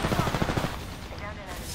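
Rapid gunfire in Apex Legends rattles at a steady mid volume, a quick run of shots blending into the general din of the match with a voice faintly underneath.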